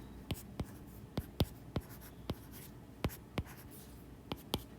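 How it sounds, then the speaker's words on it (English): A pen writes out vector addition by hand, making a series of sharp, separate taps and strokes about every half second, close and fairly quiet, with no voice. "Let me write that out."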